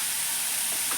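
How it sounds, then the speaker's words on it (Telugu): Tamarind goes into a hot pan while making ridge gourd chutney, and a loud, steady sizzle fills the whole brief moment, close up with no talking. "చింతపండు వేస్తున్నాను."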